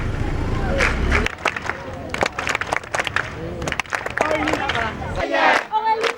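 A large, enthusiastic crowd of learners at CG Albarika in Parakou, Benin, cheers and shouts loudly to welcome the digital minister, with dense overlapping voices, whoops and scattered clapping rising and falling throughout.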